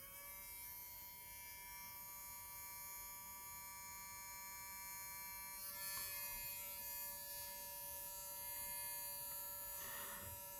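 NSR Baby King slot car motor running on a bench at about 8 volts during break-in, a steady high-pitched electric whine with constant tone and faint hum, alone and fairly quiet.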